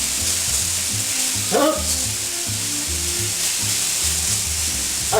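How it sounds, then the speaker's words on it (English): Food sizzles steadily in leftover oil in a home-kitchen frying pan, a constant close hiss running throughout with a brief exclaimed word from a voice partway through. "fry it in the balance of the oil that is left over in the pan here"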